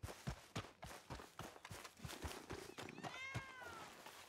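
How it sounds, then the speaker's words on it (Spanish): A cat meows in the Red Dead Redemption multiplayer game RedM, a short harmonic call near the end, heard over repeated footsteps and hoof-like thuds. "Oye, un gato."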